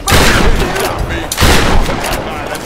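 Rapid bursts of gunfire and booming shots in the Tomb Raider: Definitive Edition video game, loud and dense, with a short pause between volleys amid game noise.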